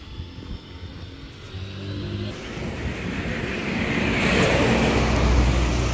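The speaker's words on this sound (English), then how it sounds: "This is the school bus." A school bus in a Kampala neighborhood driving past, its engine rumble and road noise swelling from a moderate hum to a louder, broad wash as it draws near.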